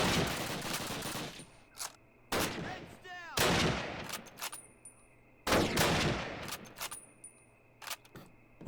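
Gunfire in Call of Duty: United Offensive comes as loud repeated bursts of automatic fire separated by short pauses, with a few single sharp shots and some game effects between.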